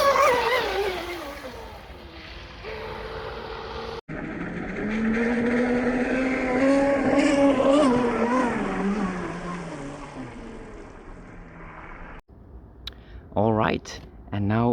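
Traxxas M41 RC boat running on water during speed and stability tuning, a loud continuous high-pitched motor whine that rises and falls with throttle, cutting out briefly near the end, with no talk over it.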